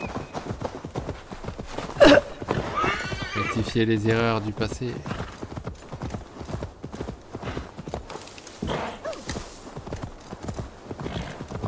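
Rhythmic hoofbeats of a galloping horse in Assassin's Creed Valhalla clop steadily throughout, with a loud whinny partway through and a person talking over it.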